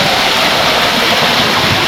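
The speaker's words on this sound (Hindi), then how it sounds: "अभी मैं केव के अंदर से जाता हुआ इस वाटरफॉल को देखूँगा" Broadband rushing roar of a waterfall heard from inside a cave at the Garden of Caves near Cherrapunji (Sohra), Meghalaya, a steady loud wash of falling water with no voices.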